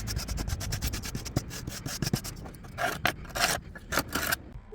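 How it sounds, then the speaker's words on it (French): Wire brush and scraper working moss off a roof, a rapid rhythmic rasping scrape of close, loud repeated strokes that loosen into separate harsher scrapes toward the end. "Première étape, gratter tout le surplus de mousse sur ta toiture."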